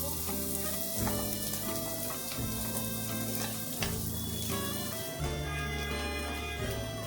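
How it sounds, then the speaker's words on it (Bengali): Chopped onions hit hot oil in a pan for a vegetable pulao and sizzle steadily and continuously throughout, with background music playing underneath. "তেলটা গরম হয়ে গেছে, এখন পেঁয়াজটা ঢেলে দেবো।"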